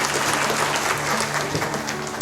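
A seminar audience at a wellness company launch event claps loudly and continuously, a dense wash of hand claps that fills the whole stretch.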